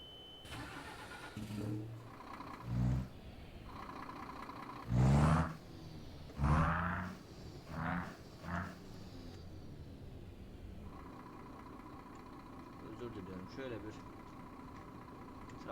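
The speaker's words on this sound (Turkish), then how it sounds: "Elektriği marşı basacağız şimdi tekrardan." A Scania R540 truck engine is cranked and fires in a few loud, uneven bursts, then settles into a steady low idle hum, with someone talking over parts of it.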